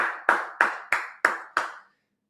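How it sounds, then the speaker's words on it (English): Six slow, evenly spaced hand claps ring out alone, each sharp and close with a short decay, followed by silence. "give it a clap"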